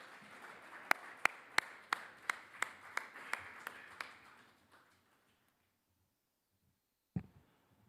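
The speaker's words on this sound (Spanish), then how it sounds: "Os pido, por favor, los presentes, que le podamos dar un fuerte aplauso a José Antonio" At a psychology congress session, about a dozen slow, evenly spaced claps ring out crisply, fade to silence, and are followed by a single sharp knock.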